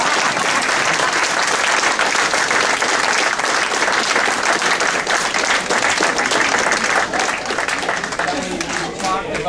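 A large crowd applauds and cheers at a political endorsement rally, dense continuous clapping filling the whole stretch at a steady loud level.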